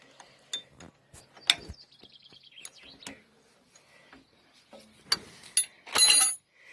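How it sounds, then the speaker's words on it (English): Metallic clicks, taps and scraping as a spanner works a nut loose on a carriage wheel bearing, in scattered bursts with a sharper rattle near the end, close up. "So just holding the nut with one and unscrewing it with the other."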